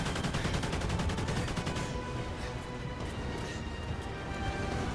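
AK-12 rifle fire in Call of Duty Ghosts rattles out in rapid automatic bursts, dense and loud in the first couple of seconds, then continuing more sparsely amid battle noise.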